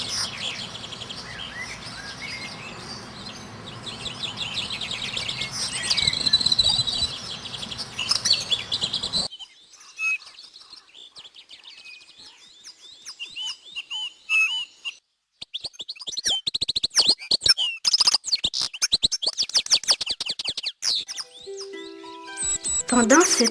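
Small tit songbirds chirp together in a busy chorus of quick tweets and whistles, rising and falling in clusters, with a voice speaking at times over the birdsong.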